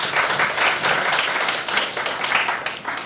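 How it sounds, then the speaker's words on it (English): An audience at a high school debating competition breaks into a full round of applause, dense clapping that stays loud and steady throughout, heard close and without talk over it. "Might we have a round of applause?"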